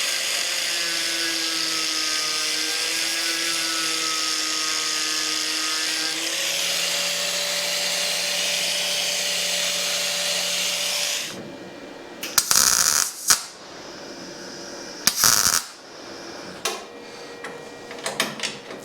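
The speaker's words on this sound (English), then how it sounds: "we're going to weld the steel strip in place with the body in place, just tack it" A steel strip is tack welded to a car body at the A-pillar. After a long steady hum, two short, loud crackling bursts of welding are heard, each followed by quieter clatter.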